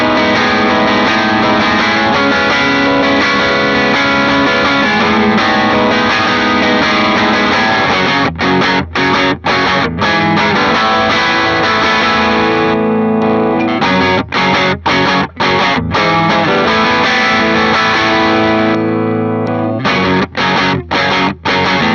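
An electric guitar plays through a Konstante transparent overdrive pedal, a dense, continuous crunchy tone of sustained chords with a few brief gaps between strums, loud and up front with no talking.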